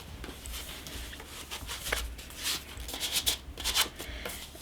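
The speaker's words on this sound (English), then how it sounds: "So I'll pop those back in their envelope." Soft papery sliding and rustling as collectible cards from an Assassin's Creed III Freedom Edition box are eased back into their paper envelope, a close, quiet run of scuffs and small taps with no talk.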